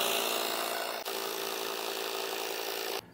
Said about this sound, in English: I happen to have a couple different electric pumps, so that's what I'm gonna use